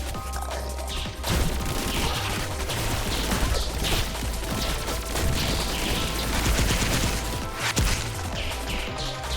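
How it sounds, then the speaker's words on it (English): A large, multi-stage explosion in the Pathogenic video game, with dense crashing and crackling bursts like rapid gunfire running continuously and loudly over booming low rumbles. "Ooh, that's a big explosion."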